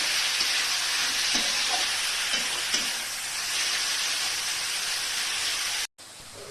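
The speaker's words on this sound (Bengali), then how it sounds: "আমি গাজরটাকে একটু ভেজে নেবো" Steady, broad hiss of grated carrot frying in a wok, continuous and fairly loud, with faint stirring clicks and a sudden brief cutout near the end.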